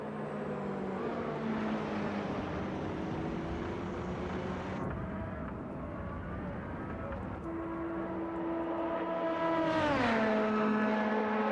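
Race car engines at Le Mans, one engine droning and shifting pitch, then another rising sharply in revs near the end, steady and fairly distant.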